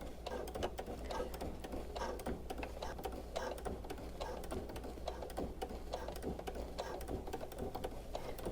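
A sewing machine fitted with a ruffler foot stitches and gathers fabric, giving a rapid, even mechanical ticking and whirring that runs steadily and fairly quietly throughout.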